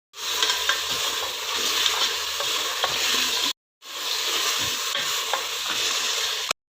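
Dry sizzling and scraping as food roasts on a hot griddle over a low flame for dumba karahi, a steady crackle with small pops, broken by one brief pause before it resumes.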